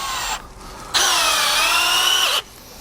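A cordless hex-bit screw gun whines at high speed in two bursts, the longer one steady and loud as a screw is driven into wood.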